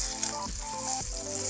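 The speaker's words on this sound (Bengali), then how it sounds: "মাছগুলোকে আমি খুব ভালো করে ভেজে নেব" Pieces of rohu fish fry in hot oil, a continuous dense close sizzle with a faint tonal hum underneath.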